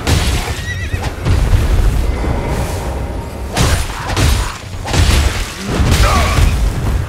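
A horse in the video game Elden Ring neighs loudly several times in close succession, sharp whinnies rising over the game's rumbling effects and hoof sounds, with no speech.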